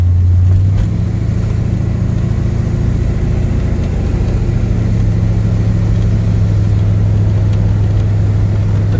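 A Chevrolet Corvette engine runs loud and close in a steady low rumble, with a dip in pitch near the midpoint as the transmission shifts, then a settled drone for the rest.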